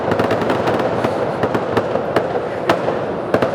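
Fireworks exploding in a dense, continuous barrage of crackling pops and sharp bangs, loud and fast with no pause.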